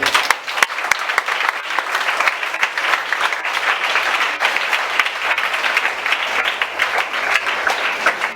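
A church congregation at a Sunday service claps in loud, sustained applause that fills the room evenly from start to finish.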